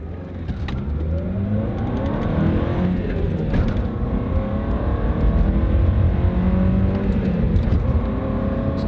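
A Toyota car engine of about 160 horsepower revs and accelerates hard, its pitch rising steadily through the gears, loud and close with a continuous roar and no talking.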